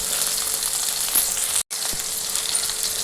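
Shallots and four garlic cloves sautéing in oil make a continuous loud sizzle with occasional clinks of a spoon against the pan, broken by one brief silent gap.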